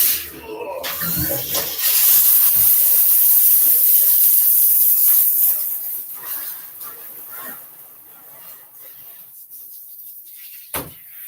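Water sprays steadily onto a dog being wet down for a bath, a loud close hiss running for several seconds before fading, with a brief clatter near the end.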